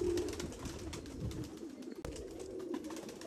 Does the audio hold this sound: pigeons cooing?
yes